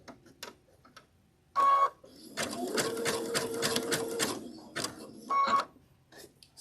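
Sewing machine stitching a rope bowl runs in short bursts, a quiet rapid whirring with a longer steady run in the middle, punctuated by brief mechanical clicks and pauses.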